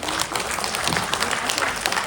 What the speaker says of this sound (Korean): 위원장께 다시 한번 큰 박수 부탁드립니다